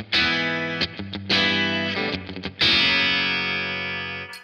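A Fender Custom Shop Masterbuilt 1969 Stratocaster electric guitar on a quacky, out-of-phase bridge pickup setting plays loud, close chords: a few sharp strums and quick choppy strokes, then a final chord left ringing and slowly fading, with no talking.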